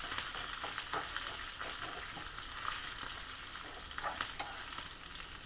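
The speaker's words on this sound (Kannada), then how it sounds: "ಇದು ಚೆಂದಾಗಿ ಎಣ್ಣೆ ಒಳಗೆ ತಾಳಿಸ್ಕೊತೀವಿ." A dhokla tempering sizzles in hot oil in a pan, giving a continuous, fairly close frying hiss with small crackles and occasional stirring taps, and no one speaks.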